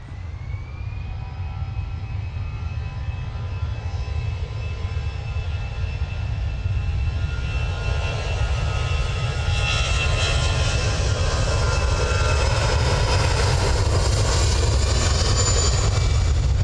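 EasyJet airliner departing Manchester Airport for Malaga, loud continuous jet engine roar with a rising whine that builds and grows rougher as the aircraft powers away.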